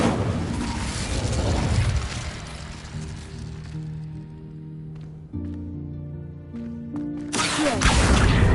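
Incendio fire spell cast in Hogwarts Legacy, a loud whooshing burst of flame up front that fades into a softer tonal magical hum with a few light clicks, before another rush of noise swells at the end.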